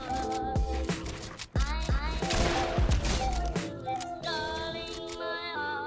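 Rapid bursts of gunfire during a kill in Fortnite, with sharp shots over game music and effects, near and loud throughout.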